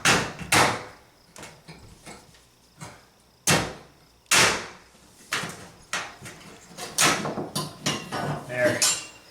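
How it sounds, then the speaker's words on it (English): Wall supports being knocked out one at a time during demolition in a gutted room, sharp hammer-like bangs and clattering knocks with short gaps between, close and loud, followed by a faster cluster of impacts. "All right, one at a time, knocking down the supports."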